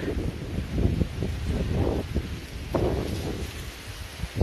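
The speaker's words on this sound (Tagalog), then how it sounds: "Grabe ang hangin guys." Gusty wind buffets the microphone in low rumbling bursts, with rustling of a plum tree in the background and no clear speech.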